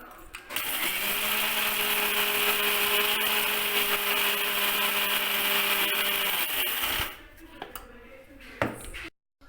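A mixer grinder whirs loudly as it grinds chana dal with rock salt, a steady high motor drone running about six seconds before cutting out, followed by a few clattering knocks of the jar.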